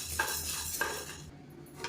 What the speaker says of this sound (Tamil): இதையும் சேர்த்து நல்லா வறுத்துக்கலாம்.